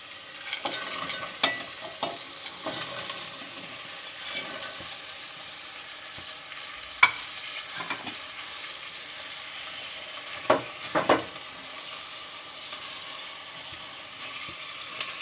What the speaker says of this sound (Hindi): अब इसके अंदर मैं ये 1 पाव मटर और 2 अदद आलू इस तरह से मैंने काटे, ये हम डालेंगे इसके अंदर।